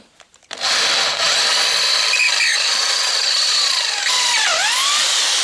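A power drill bores holes for an interior reinforcement during installation of a Xantia interior in a Citroën Traction 11B, a loud steady high whine starting abruptly and running continuously, with a brief squealing pitch dip near the end.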